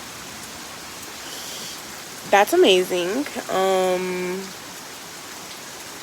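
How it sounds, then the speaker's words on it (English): Heavy storm rain pours steadily outside, a dense wash of hiss running throughout while a person speaks briefly over it in the middle. "The rain is coming in sideways."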